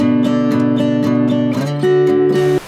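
An acoustic guitar strums a few chords, steady repeated strums shifting to a new chord partway through, close and clear with no talking.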